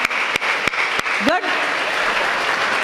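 Applause from an audience at a public speech fills the clip, with a few sharp claps standing out and a voice briefly heard mid-way.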